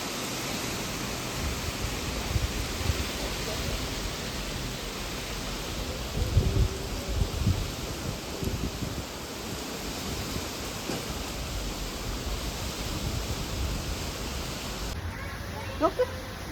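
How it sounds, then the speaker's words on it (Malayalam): Strong wind and heavy rain heard from a balcony make a loud, steady roar of broadband noise with occasional gusty swells and no clear voices. "ഭയങ്കര കാറ്റും മഴയുമായിരുന്നു."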